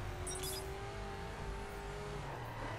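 A Koenigsegg Agera R in The Crew spins its wheels with a steady, droning engine roar and a high tonal whine, held at a constant level throughout without any break.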